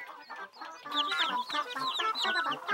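Cartoon chickens clucking in a busy flock, a close, rapid overlapping chatter of clucks and squawks that grows denser after the first second.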